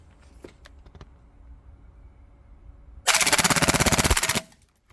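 A Tokyo Marui MP7A1 gas blowback airsoft gun runs a full-auto burst on green gas, a loud, rapid, even rattle of shots lasting about a second and a half. Quiet handling noises come before it.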